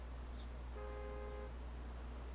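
A car horn honks in the BeamNG.Drive driving game, one steady faint toot lasting under a second, sitting low beneath a constant background hum.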